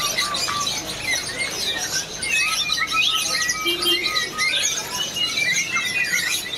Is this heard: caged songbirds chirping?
yes